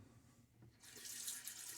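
A bathroom tap starts running partway through and keeps up a steady, bright hiss of water while shaving lather is being built with WWS Pony Express soap.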